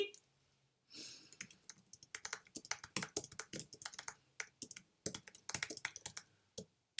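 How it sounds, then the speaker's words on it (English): Quick, uneven bursts of typing on a computer keyboard, close and crisp, clattering keystrokes after a brief quiet start, with no talk over them. "my typing was so bad right now"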